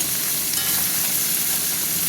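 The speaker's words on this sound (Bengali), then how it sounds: "ওইদিকে মাছ ভাজা হচ্ছে" Hilsa and khoira fish fry in a pan of hot oil, a dense, even sizzle heard up close and alone for a couple of seconds.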